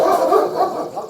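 Police K-9 dogs barking and whimpering together in a steady, loud, close jumble of overlapping yips and barks that fills the whole moment.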